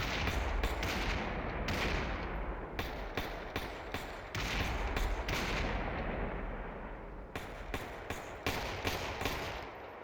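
Scattered gunshots ring out in the VR shooter Population One as players in a competitive match lobby trade shots, with sharp cracks and booms arriving in irregular clusters over a rumbling game background.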